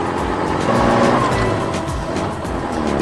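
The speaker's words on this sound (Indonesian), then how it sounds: "lihat skid steer loader kuning itu bekerja keras membersihkan puing-puing" A yellow skid steer loader clearing debris from a road in a 3D construction animation, with a loud continuous engine roar and rumbling, steady and close with no talk.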